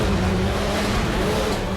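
Race car engine holding a steady, loud drone as it rounds a tire obstacle at a Battlecross event, with a faint voice mixed into the continuous roar.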